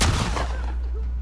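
A single loud gunshot cracks in The Last of Us Part II video game and leaves a short rumbling tail that fades over about a second.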